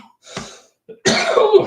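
A single person coughs and clears the throat up close in two harsh bursts, the second louder and longer, during a livestream.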